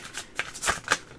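Tarot cards being shuffled by hand, a few quick riffling bursts in an uneven rhythm, close and moderately loud, with no speech.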